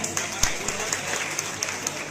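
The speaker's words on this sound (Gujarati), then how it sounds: "તાળીઓના ગડગડાટથી વધાવીને એમને" An audience at an award ceremony gives sustained applause with sharper individual claps standing out. It is moderately distant, and a voice speaks over it.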